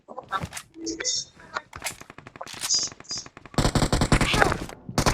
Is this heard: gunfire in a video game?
yes